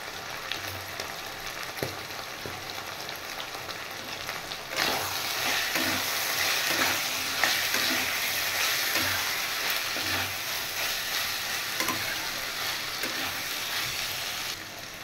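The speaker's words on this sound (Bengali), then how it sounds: "এবার এটা একটু ফ্রাই করে নেব" Mutton keema frying in a pan with coriander powder, a steady broad sizzle that grows louder about a third of the way in, with occasional stirring scrapes and no voices.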